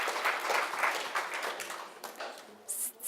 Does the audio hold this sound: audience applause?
yes